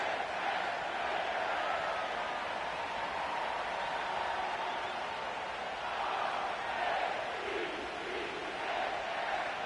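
A stadium crowd roars steadily in an EA Sports football game, a dense, unbroken wash of cheering that swells slightly at moments and continues throughout.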